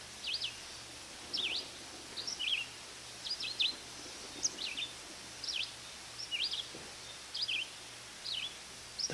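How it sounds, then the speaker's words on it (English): A small bird sings repeated short chirping phrases at a steady, regular pace, clear but moderately distant over a quiet background hum. "How do I listen to the bird?"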